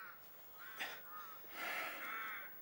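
Bird calls in a 2002 BBC radio play of Watership Down, harsh crow-like caws rising twice over a soft background, the second longer and louder.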